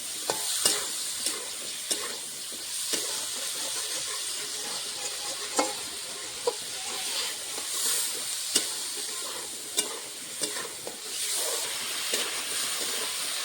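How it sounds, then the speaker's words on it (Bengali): Potatoes and peas frying in a pan with salt and turmeric, a steady hiss of sizzling oil with repeated scraping knocks of a spoon stirring the vegetables, close and alone. "পরিমাণ মতন হলুদ গুঁড়ো দিয়ে আলু আর মটরশুঁটিটা ভেজে নেবো ভালো করে"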